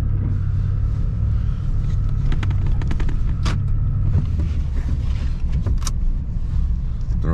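A four-wheel-drive vehicle rolls along a slippery snowy road, its low engine rumble and road noise steady from inside the cabin, with a few faint clicks and rattles.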